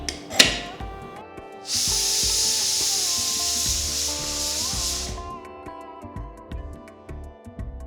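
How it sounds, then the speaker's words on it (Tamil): Chickpeas cooking in a pressure cooker as it vents, a loud steady hiss of steam lasting several seconds, set among clattering kitchen sounds and rubbing noises before and after. "குக்கரை மூடி 4-5 விசில் வர வரைக்கும் வேக விடுங்க"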